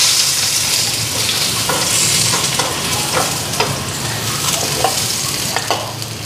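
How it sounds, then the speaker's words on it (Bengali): Fish frying in a pan with onions, a steady close sizzle broken by scraping stirs and light clinks, with no talking. "পেঁয়াজটা ফ্রাই করে মাছ ভাজা হয়ে গেছে গা"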